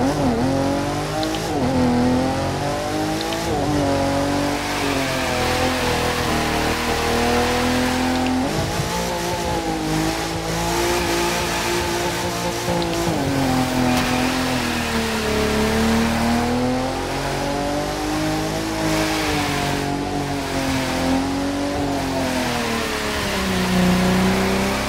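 In the racing game The Crew 2, a customized Nissan 370Z drifts up a mountain road, its engine revving hard and continuously with pitch swings from throttle changes and occasional tire squeal, loud and close throughout.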